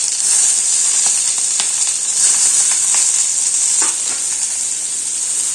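Onion and green chilli fry in a pan for a mutton intestine (kudal) dish, giving a loud, continuous hiss of oil with occasional soft scrapes and clicks of stirring, close up and with no talking.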